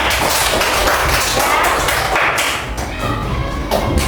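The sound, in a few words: applause for the West Kalimantan group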